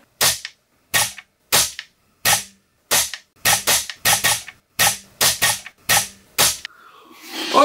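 Airsoft guns firing during barrel testing, heard as about a dozen sharp, loud single shots in an irregular rhythm with near-silent gaps between them, followed by a softer mechanical rustle at the end.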